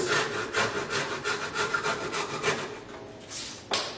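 Hand saw cutting through wood for a garden bench, steady rhythmic rasping strokes close up, slowing and thinning near the end of the cut before a final sharp scrape.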